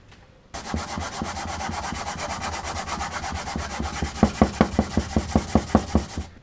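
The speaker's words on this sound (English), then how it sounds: "I'm gonna give it a pass with 150 and then 240" Sandpaper, 150 then 240 grit, rubbed back and forth on a wooden mallet in quick rhythmic strokes, close and steady, becoming sharper and more distinct toward the end.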